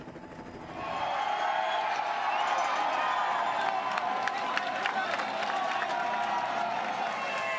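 Roadside crowd at a cycling stage race cheering and applauding a rider in the green jersey, a swelling wash of claps and shouts that rises abruptly after a quiet start and stays loud and continuous, with scattered sharper claps near the end.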